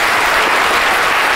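Loud, dense applause from an audience at a brain science talk, honoring the volunteers on stage, a continuous close wash of clapping with no voices over it.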